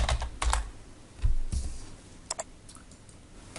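Someone types on a computer keyboard while editing text, a few quick bursts of key clicks with short pauses between them, close and crisp, and nobody talks.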